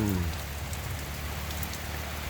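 Afternoon rain falling at a gazebo on a hot day, a dense, even patter on surfaces close by with no voices and no change in intensity.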